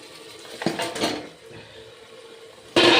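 Mutton pieces are stirred in a pot of spice paste with the oil separating, producing scraping clatter and utensil knocks, a quieter stretch, then a sudden loud burst of scraping at the end.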